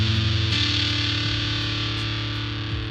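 Electric guitar played through a distortion VST plugin, a loud saturated sustained tone with a couple of low note changes, heavily fuzzed and continuous throughout without pause.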